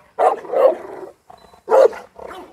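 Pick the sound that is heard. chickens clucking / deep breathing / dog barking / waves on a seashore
dog barking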